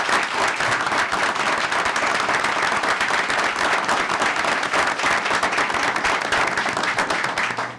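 Sustained applause fills a city council meeting room as a newly confirmed member stands, dense steady clapping from many people for several seconds before fading at the end, with no talking.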